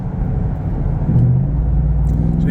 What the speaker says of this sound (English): This race truck is really fun.